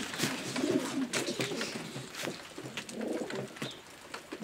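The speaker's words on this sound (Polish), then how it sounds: "Następny gołąbek." Racing pigeons cooing in a loft, soft repeated low coos with faint rustling and other bird sounds nearby.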